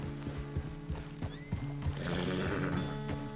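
A horse in Red Dead Redemption 2 whinnies loudly over rhythmic hoof clops, with a second neigh rising near the end, close and clear.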